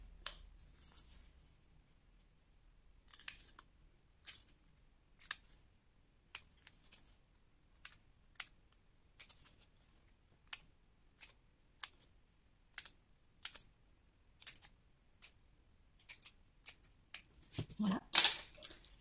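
Scissors cut paper along fold lines while an Advent calendar is made, giving sharp, close, isolated snips spaced a second or two apart against near silence, with a louder rustle at the end.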